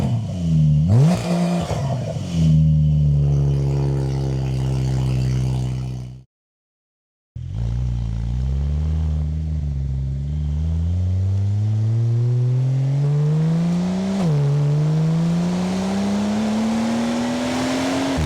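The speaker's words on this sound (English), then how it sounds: "Let me just demonstrate to you on startup what it sounds like." A Porsche 911 Carrera S fitted with a GT3 exhaust starts up. The engine cranks, then catches with a loud rising roar that settles to idle. After a short silence it flares up again and revs before easing to a throaty idle, close and loud.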